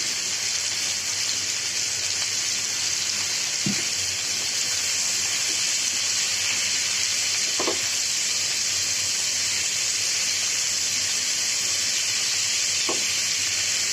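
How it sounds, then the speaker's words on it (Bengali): Chinese-style vegetables frying in a hot pan, a loud continuous hiss and sizzle throughout, with a few brief knocks of a utensil as they are stirred and no speech. "ভালো করে মিশিয়ে নিচ্ছি।"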